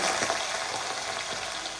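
Mustard seeds, urad dal and crushed garlic sizzle in hot oil for an egg chammanthi, a steady loud crackling hiss with small pops and no talking.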